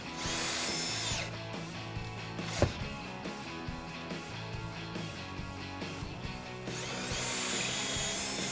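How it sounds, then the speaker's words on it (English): A power drill with a 3/16 inch bit whines steadily as it bores through a Jeep Wrangler's metal frame, the motor pitch dipping under load midway before spinning back up, close and alone. "So I'm just going to continue with my 3/16 inch drill bit."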